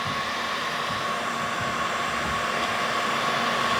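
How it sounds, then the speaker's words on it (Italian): A steady, loud blowing roar of a heat gun stripping varnish from furniture runs without pause, a constant airy hiss with a faint whine, close to the microphone. "è semplicemente il phon termico che va a scaldare la superficie che ha la protezione e che quindi svernicia"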